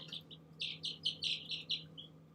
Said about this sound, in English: Let's look at some baby birds, though.